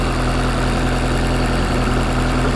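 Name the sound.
Toyota Corolla 2ZZ turbo engine idling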